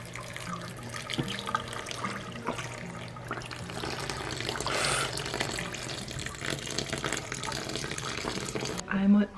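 Hot water runs from a tap into a sink for soaking handspun art yarn, a continuous close splashing flow that surges near the end, with a voice speaking briefly over it.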